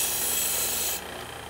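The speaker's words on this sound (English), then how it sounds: "Take off the edge. Remove any burr." A file rasps steadily over the freshly cut end of a golf shaft to remove the burr, a close, loud scraping that eases off after about a second.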